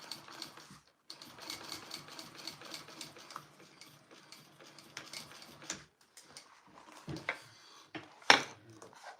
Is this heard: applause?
no